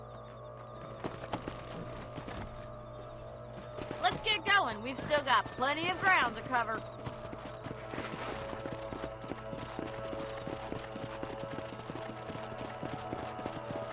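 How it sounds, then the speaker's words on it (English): Horses clip-clopping at a gallop in the video game Red Dead Redemption, rhythmic hoofbeats running steadily under in-game music with a brief stretch of a character speaking, close and moderately loud. "Let's get back on the horses and see what else is going on."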